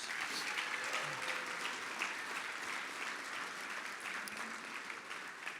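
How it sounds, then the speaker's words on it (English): Sustained applause from a sizable crowd at a university gala dinner, steady and even throughout, with no voices standing out. "One more round of applause for those sponsors."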